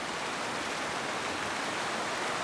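Rushing glacier meltwater stream below Huascarán in the Peruvian Andes, a constant broadband roar of water with no breaks, steady and moderately loud, heard alone.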